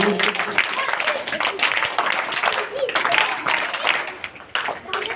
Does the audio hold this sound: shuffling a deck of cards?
no